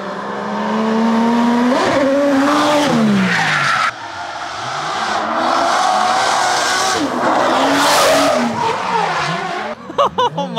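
Race cars at Ebisu Circuit in Japan sweep loudly through a corner, engines revving and shifting pitch as they pass one after another, with tires skidding and squealing throughout and a brief lull mid-way.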